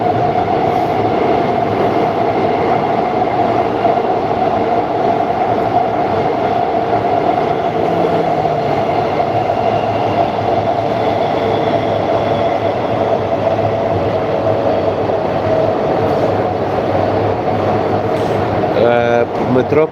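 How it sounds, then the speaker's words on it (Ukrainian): A Warsaw metro train runs steadily with a loud, continuous rumble and rolling clatter throughout, with muffled voices beneath the noise. "А як вам, до речі, ті вагони метро"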